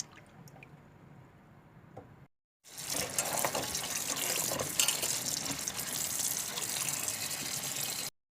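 Water gushes and splashes steadily in a sink as potatoes are rinsed, after a quieter stretch of faint dripping and handling and a brief silent gap, then stops abruptly.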